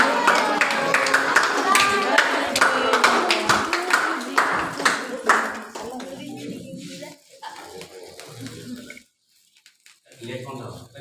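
Hands clap in quick bursts at a school birthday celebration for the secretary teacher, with crowd chatter mixed in, then the clapping thins out and falls quiet near the end.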